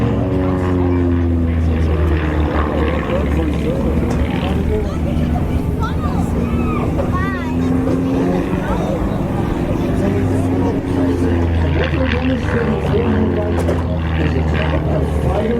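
Propeller aerobatic aircraft, a Van's RV-7 and RV-8, flying loops at an airshow produce a steady, continuous engine drone that swells and shifts in pitch as they pass, with an announcer talking over it throughout.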